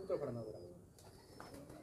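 A soft, low coo from a pigeon in Lahore, close and faint, with quiet background noise.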